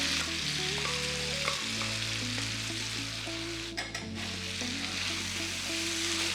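Buffalo beef sizzling and frying steadily on a low flame for a Kerala-style beef fry, a constant close hiss under a background of steady tones, with a brief scrape partway through.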